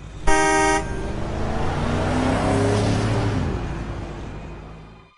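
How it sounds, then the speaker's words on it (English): A car horn gives one short, loud beep, then the car roars past at speed, its engine noise swelling and fading away over several seconds with no voices. "A car beeped as it raced past exactly where I would have run to"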